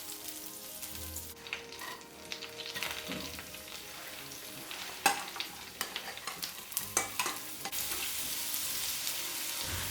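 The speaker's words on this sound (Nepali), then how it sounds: "प्यानमा 2 क्युब बटर मेल्ट गरौं र काटेर राखेको लसुनलाई फुराऊ" Chopped garlic fries in two cubes of melted butter in a pan, a soft close sizzle broken by scraping stirs and sharp clinks of a utensil against the pan.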